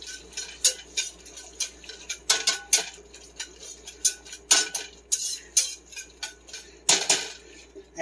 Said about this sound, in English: And give that another stir.